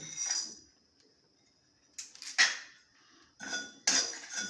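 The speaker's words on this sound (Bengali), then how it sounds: "এইগুলো আমি শুকনো খোলায় ভালো করে একটু নেড়ে চেড়ে ভেজে নেব।" Whole cumin, coriander seeds, dried red chillies and black peppercorns are stirred in a dry pan, giving bursts of metallic scraping and clinking from the utensil against the pan, separated by near-silent pauses.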